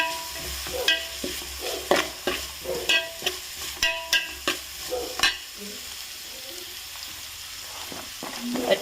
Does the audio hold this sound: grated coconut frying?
yes